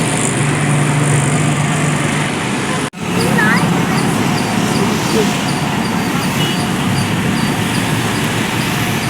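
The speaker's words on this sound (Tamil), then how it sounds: "இப்போ மூவ் ஆகிறத நீங்கள் பார்த்துட்ருக்கீங்களா அது பேர் தான் ஆர்டிஜி" Rubber tyred gantry crane moving through the container yard at Chennai port, heard as a loud, steady diesel engine drone with broad road-like rumble, briefly cut off once before resuming, with no words spoken over it.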